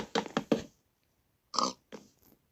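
Pigs in the Minecraft video game give short grunting oinks, a quick cluster of three or four, then a pause and two more separate oinks, clear and close.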